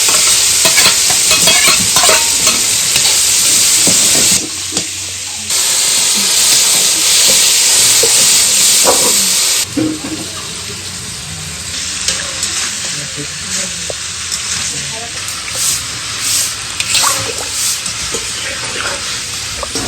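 Loud, bright sizzling of fried fish heads added to cooked spices in a hot pan, with stirring scrapes; the hiss drops briefly twice, then continues more softly.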